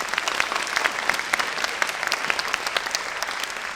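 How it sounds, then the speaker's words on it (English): After a classical music morning performance, a small audience gives a round of applause, individual claps distinct and irregular within a steady patter. "Can you please give them another round of applause?"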